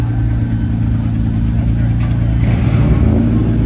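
A Corvette with a gap cam engine and a fat rear tire rolls past outdoors, a steady loud low engine rumble that swells slightly as it passes, continuous throughout.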